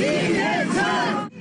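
A packed 15,000-seat Seoul Olympic gymnastics arena filled with a roaring, cheering crowd at a party convention, loud and dense, cutting off abruptly at the end.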